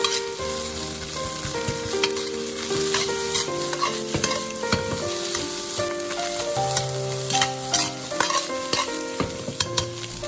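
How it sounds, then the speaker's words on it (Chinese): Egg fried rice being stir-fried in a wok, loud continuous sizzling with frequent clanking and scraping of the spatula against the metal as the rice is tossed nonstop, no voices. "炒饭的时候一定要不停的给它翻动，避免糊锅。"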